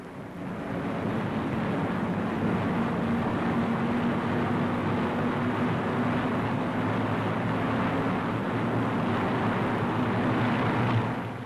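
B-26 Marauder bomber engines droning in flight on a 1944 mission, a steady broadband roar with a low hum holding evenly for the whole stretch, no voices over it.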